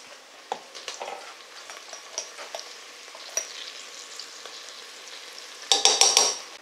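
Five spice and turmeric get stirred in a pan, scraping and sizzling softly with scattered clicks, ending in a louder burst of quick scrapes.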